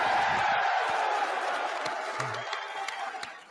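Conference crowd at a white nationalist gathering cheering and clapping, a loud roar of voices and applause that gradually fades, with a few sharp claps standing out near the end.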